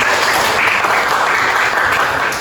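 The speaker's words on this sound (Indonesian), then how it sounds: "tepuk tangan dulu untuk teman" A classroom full of students claps together, a dense, steady burst of applause lasting a couple of seconds.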